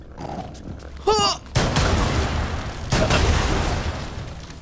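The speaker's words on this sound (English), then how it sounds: "Things are exploding." Explosions and gunfire in the video game Rainbow Six Extraction: a sharp whistling burst followed by loud, sustained booming blasts that roll on with a second heavy impact, dense and close, with no talk over it.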